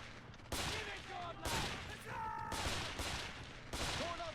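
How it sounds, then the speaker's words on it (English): Sniper and battle gunfire in the war strategy game Men of War, set in a mountain D-Day assault, with sharp broadband shots landing roughly once a second over a steady din of battle. "He's taking shots from a sniper."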